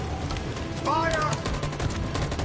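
Gunfire in a PS4 video game, a dense, steady rattle of shots over a loud battle din, with shouting voices blended into the mix.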